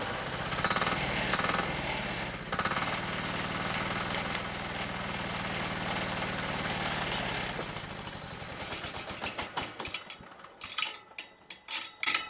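The engine of a homemade mobile bandsaw mill runs steadily while warming up, a loud continuous rattling drone that later breaks into uneven choppy bursts of clatter.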